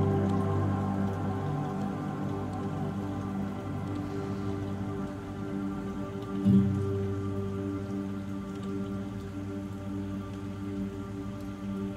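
Waterfall at Curug Halimun, near a house with terraced rice fields, giving a steady, even rush of falling water that fills the whole stretch without pause, with no voices over it.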